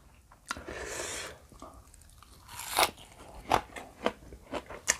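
Crisp crunching bites and chewing of fresh raw vegetables eaten with Thai papaya salad and crab, a series of close, sharp crunches that grow more frequent toward the end, with no talking.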